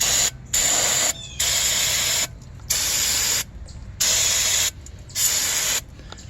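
Brake cleaner sprays onto rear brake parts of a 2015 Ford Taurus in five loud, hissing bursts of about a second each, separated by short pauses.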